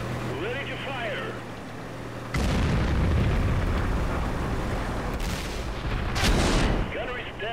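A tank cannon in World of Tanks fires with a sudden heavy boom that rolls into a long rumbling tail, followed by a second blast near the end, with talk over the start.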